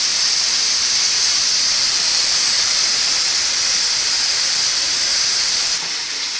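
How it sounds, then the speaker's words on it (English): Water from a kitchen sink tap runs steadily while hands are washed after handling raw steak, a loud, close, even hiss that barely changes before easing slightly at the very end. "Obviously, we've been handling raw meat, so we got to wash up."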